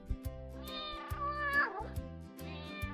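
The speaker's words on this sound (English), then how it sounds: "It sounds like a cat. I heard one meow." A cat meows in a children's farm-animal song, with two drawn-out, rising and falling calls over a rhythmic musical backing.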